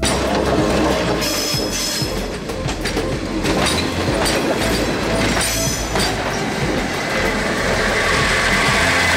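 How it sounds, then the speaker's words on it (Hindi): A train runs over rail track whose joints are bolted with fish plates, producing loud, continuous clickety-clack wheel clatter with bursts of metallic squeal and rumble, heard up close without voices. "फिश प्लेट का अगर हम यूज करते हैं तो हमें कुछ इस तरह से साउंड सुनाई देता है जब ट्रेन ट्रैक से चलती है तो।"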